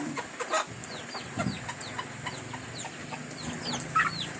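Chickens cluck and chirp close by in short, scattered calls over a steady background hum, with no talking.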